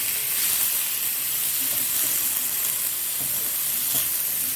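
Mixed vegetables for Guyanese chowmein sizzle steadily in a hot pan over medium heat, a constant hiss with faint stirring scrapes, close and without talk.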